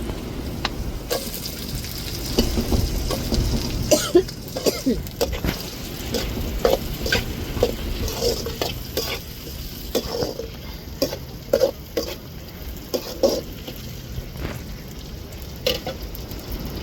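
Tomatoes, onions and green chillies sauté in a pan while cooking needle squid chukka, giving a steady close sizzle broken by scraping, clattering stirs throughout.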